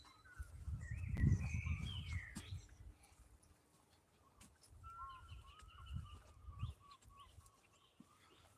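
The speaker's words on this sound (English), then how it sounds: "I can hear a lot of seagulls." Gulls calling in a big outdoor cemetery, loud harsh cries early on, then scattered further calls at moderate distance, with outdoor rumble underneath.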